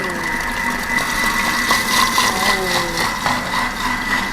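Electric mixer whisking cake batter at speed 4 for an Easter bunny cake, a steady whirring drone with a rattling beater tone, running continuously and close.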